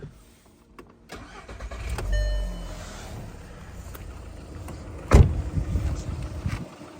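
A 2005 Volkswagen Caddy Life with a naturally aspirated MPI petrol engine cranks and starts, then runs at a steady idle, with a brief click or thump partway through.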